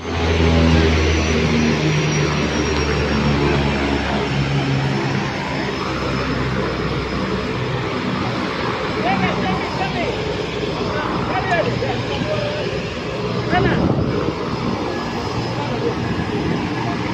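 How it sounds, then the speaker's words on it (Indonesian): A Susi Air light propeller airplane on a Manokwari–Teminabuan flight, a loud, steady engine drone that fills the whole stretch while people talk over it. "Ini pesawat yang akan kami gunakan. Saya sendiri baru pertama kali naik ini, Susi Air."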